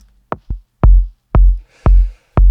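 Layered kick drum sample from the Polaroid sample kit, with a long low end and a layer adding high end: five punchy thumps with boomy sustained bottoms, the first two short and close together, the rest evenly spaced.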